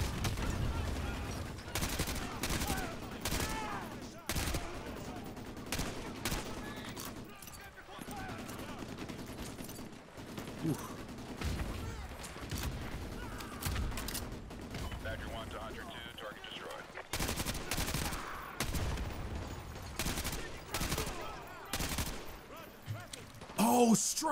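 Striker shotgun blasts ring out in a Modern Warfare 2 Campaign Remastered firefight, a run of loud, sharp booming shots in rapid bursts with brief gaps, mixed with battle noise and voices talking over it.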